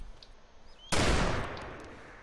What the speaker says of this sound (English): the guy's shooting an AK at IJ